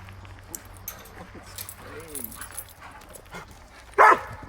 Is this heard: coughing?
no